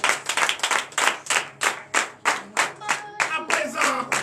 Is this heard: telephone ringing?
no